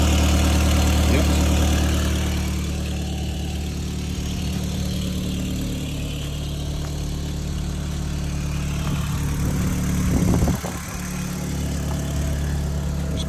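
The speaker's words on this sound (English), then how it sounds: "Just give it a little bit of a rev." Audi TT engine on a cold start with a cheap aftermarket downpipe, idling steadily with a low rumble and a brief rev near the end, close and continuous with no talk.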